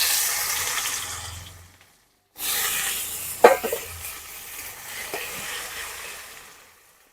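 Chopped onion hits hot fish-frying oil seasoned with bay leaves and black cumin. A steady sizzle fades, goes briefly quiet, then bursts back loudly with spatters and settles into a continuous frying hiss, with no talking.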